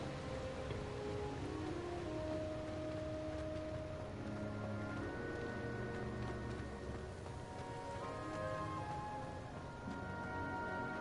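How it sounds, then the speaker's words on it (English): Steady rain falls throughout a video game scene, a dense even hiss with faint background music tones layered beneath, continuous and fairly quiet, with no speech. "This place, it's raining again."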